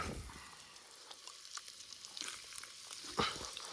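Chicken curry being stirred in a pot at an outdoor party gives a soft bubbling sizzle with occasional scraping and clinking of the spoon, fairly quiet and distant, with no talking.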